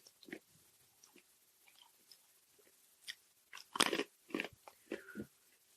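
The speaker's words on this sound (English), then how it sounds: "Sorry for crunching on the mic." Pretzels are crunched close to the microphone during a podcast: sharp, irregular bursts of crisp biting and chewing, loudest in a cluster near the end, with no talk.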